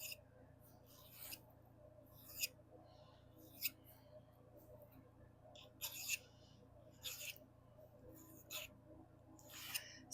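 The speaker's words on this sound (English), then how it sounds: "instead of holding my file at a 90-degree angle to the back plate, I'm going to have it angled away from it slightly." A hand file rasps against the metal back plate of a cuff in short, separate strokes, about a dozen crisp scrapes spaced irregularly over a quiet studio background.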